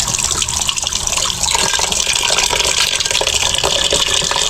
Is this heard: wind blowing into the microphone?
no